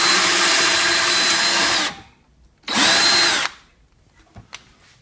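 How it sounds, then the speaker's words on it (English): A power drill bores a hanging hole in a wooden birdhouse, running in two loud close bursts, a long one and then a shorter one, separated by a brief pause and followed by quiet handling. "I'm going to drill the hole, the hanging hole, in my birdhouse"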